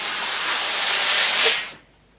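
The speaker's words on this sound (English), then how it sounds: "this is robust enough for you to apply some actual steam" A steam iron releases a loud, steady hiss of steam onto fabric during sausage dog appliqué work with bonding web. The hiss holds for about a second and a half, then cuts off, leaving near silence.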